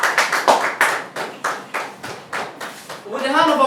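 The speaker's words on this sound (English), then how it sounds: "With a hand of applause" Hand clapping greets the vice president at a university creative club general meeting in Ghana, about a dozen sharp, evenly spaced claps in a steady rhythm, followed by a voice starting to speak at the end.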